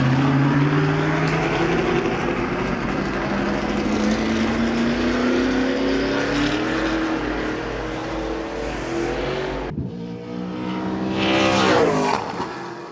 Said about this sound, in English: This is what the supercar should sound like.